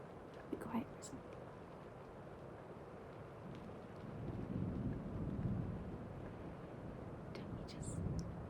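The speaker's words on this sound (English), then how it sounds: "Don't you just absolutely love the sound of rain?" Steady rain falls in a late-night setting, a soft continuous hiss that swells slightly midway, with faint scattered drips and an occasional low rumble.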